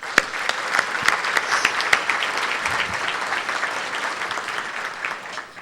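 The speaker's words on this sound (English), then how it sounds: "Let's give them a nice round of applause." Audience applause for state senators and representatives at a State of the County address, a steady, dense wash of clapping filling the room for several seconds.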